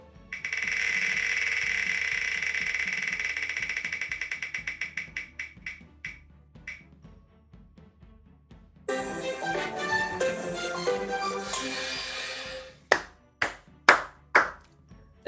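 A prize wheel spins with rapid ticking clicks that gradually slow and space out until it stops. A bright jingle and a few sharp claps follow.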